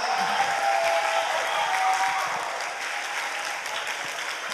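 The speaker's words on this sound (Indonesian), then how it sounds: "Aplaus yang meriah untuk Mbah Ahmad" Audience applause for Mbah Ahmad, an elderly Surabaya witness of the 10 November battle, at a Heroes' Day school session at SMK Krian; steady, dense clapping from a crowd holds at full strength, then eases slightly toward the end.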